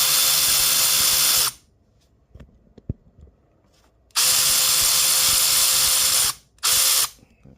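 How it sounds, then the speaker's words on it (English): A power tool grinds down a 10mm socket in loud, sustained bursts: one long run, a quiet pause with small clinks, then a second long burst and a short final one. "I gotta grind down my 10mm here"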